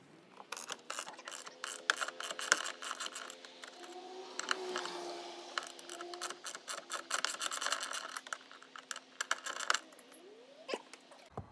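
Ratchet works loose two 10 mm hinge bolts on a Lexus RX350 power liftgate, quick close clicking and metallic rattles in irregular bursts, fairly quiet, with occasional clinks and handling noise.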